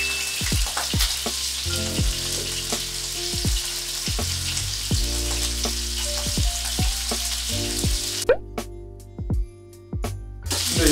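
A steak fries in a pan, giving a loud, steady sizzle with scattered pops and utensil clicks throughout, then briefly quieting near the end.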